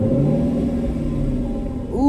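A Lexus LC 500 engine catches and settles into a loud, steady low rumble, heard close from inside the car, with a brief rising rev at the very end.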